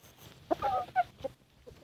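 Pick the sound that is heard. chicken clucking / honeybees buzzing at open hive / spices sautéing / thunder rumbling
chicken clucking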